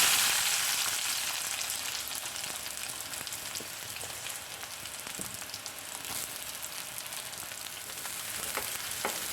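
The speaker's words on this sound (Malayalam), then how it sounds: "നമുക്കൊരു 1/4 ടീസ്പൂൺ കടുകിട്ട് കൊടുക്കാം. കടുക് പൊട്ടി വരുമ്പോഴേക്കും നീളത്തിലരിഞ്ഞ ഒരു സവാള ചേർത്ത് കൊടുക്കാം." Mustard seeds and sliced onion fry in hot coconut oil, giving a steady, close, crackling sizzle with scattered pops throughout and no talking.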